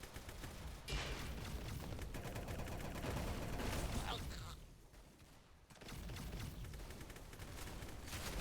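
Rapid gunfire from the Roblox shooter game Arsenal, dense bursts running nearly throughout with a brief lull in the middle, under occasional talk.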